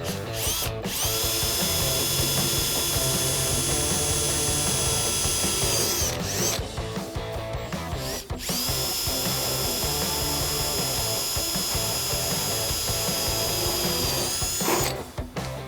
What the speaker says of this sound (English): So we're gonna start our holes with a pilot bit. I'm gonna use a 3/16 and then finish it off with a 5/16.